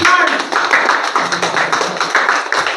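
An audience claps at a DXN business seminar, producing a steady patter of many overlapping claps that is fairly loud and close and stays dense throughout with no break.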